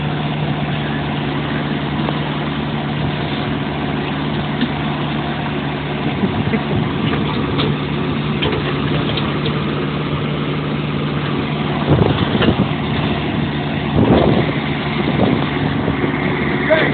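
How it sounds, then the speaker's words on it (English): A backhoe engine idles steadily nearby during a rural outing, a low constant rumble running throughout with a few brief knocks and louder bursts near the end. "You're supposed to use the backhoe"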